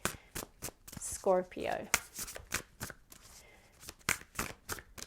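A Spellcasting Oracle card deck is shuffled in several quick, crisp riffling bursts close by, with a person speaking between and over them.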